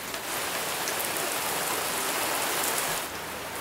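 Steady rain pours down outdoors, a dense, even hiss of drops on surfaces at close range, continuous and unbroken with no voices.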